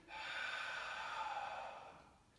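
A single soft, steady exhale through the nose or mouth, close and quiet, lasting about two seconds and trailing off during a slow shoulder mobility exercise.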